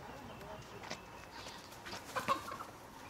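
Chicken clucks from a village yard, a few short scattered calls amid rustling and a distant voice, faint and fairly close.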